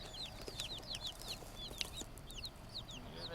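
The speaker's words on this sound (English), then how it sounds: "we've got our meat birds in here straight from the post office" Young meat-bird chicks peep in a chorus of short, repeated high chirps from inside a cardboard shipping box fresh from the post office, close and fairly soft over a steady low background hum.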